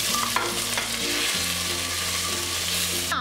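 Shallots sautéing in a pan for a Goan fish curry make a loud, steady sizzle and crackle throughout, with a low, constant hum underneath and no voices.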